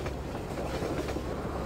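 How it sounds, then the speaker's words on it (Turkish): A train rumbling past in the video game Half-Life 2, a steady, dense rolling roar with a faint clatter of wheels that holds at a constant loud level throughout the short stretch, with no voices over it. "Buradan tren gelecek."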